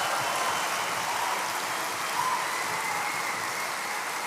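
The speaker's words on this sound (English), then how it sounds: "I say that not to get that applause, honestly." Steady audience applause at a conference keynote, a continuous rain-like wash of many hands clapping, even and moderately distant for about four seconds, with no voices over it.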